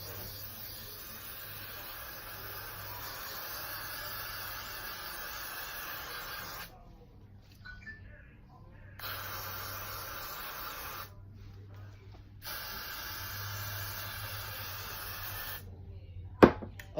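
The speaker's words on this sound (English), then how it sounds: "Why is this spraying like that?" Got2b hair spray sprays from a can in a long, steady hiss. It stops briefly twice and ends with a couple of sharp clicks, all at close range.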